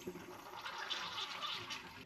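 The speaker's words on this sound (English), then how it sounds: "and you give it a flush down" An RV toilet flushes after a dose of toilet treatment has been poured in, giving a steady, close rush of swirling water that runs for the full two seconds with no talking.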